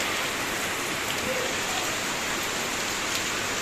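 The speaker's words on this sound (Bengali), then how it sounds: "দেখো বিশাল পরিমাণে বৃষ্টি হচ্ছে" Heavy rain pours down in a steady, dense hiss that fills the whole stretch evenly, close and loud with no voices over it.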